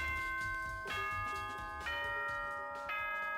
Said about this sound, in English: with the sound of that bell, we're gonna end this episode here